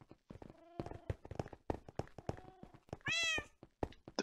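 A cat in Minecraft gives a series of short, clear meows scattered through the clip, with one louder, drawn-out meow near the end, set against light tapping and thumping game sounds.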